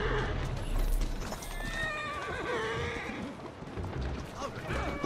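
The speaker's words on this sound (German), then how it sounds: "Die Pferde sind durchgegangen." Runaway horses in Assassin's Creed Syndicate whinny loudly and shrilly while hooves clatter at a gallop, with a crash-like rumble underneath and a voice talking over the commotion.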